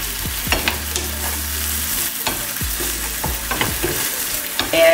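Meat browning in its own fat with vegetables stirred in, a continuous close sizzle punctuated by repeated scraping strokes of a utensil across the pan.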